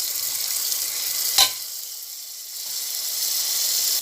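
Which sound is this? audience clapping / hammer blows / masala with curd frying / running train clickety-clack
masala with curd frying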